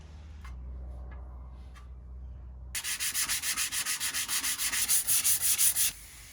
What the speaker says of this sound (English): I had sanded my way through all of the scraped paint and cracked filler